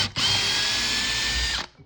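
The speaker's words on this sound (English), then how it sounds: "pre-drill and then drill with a 3-inch screw" A power drill driving a 3-inch screw into a wall stud whirs steadily at high speed for under two seconds, close and loud, then spins down and stops.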